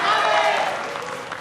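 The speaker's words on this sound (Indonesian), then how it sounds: "Boleh hadirin untuk memberikan tepuk tangan yang paling meriah untuk kedua pasangan calon presiden dan wakil presiden." Applause from the audience at Indonesia's 2019 final presidential and vice-presidential debate, a loud burst of clapping that gradually fades over a second and a half.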